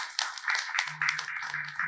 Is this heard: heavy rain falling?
no